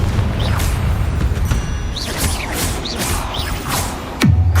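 Spell blasts from Bombarda and Confringo in Hogwarts Legacy, with a string of whooshing magical bursts and crackling impacts over dense combat noise, ending in a loud booming hit near the end.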